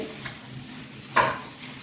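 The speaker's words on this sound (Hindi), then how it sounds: "और इसे भी अच्छे से मिक्स कर लेंगे" Jaggery being stirred into a cooking amla mixture, a soft scraping stir with one louder scrape near the end over a faint steady sizzle, no talking.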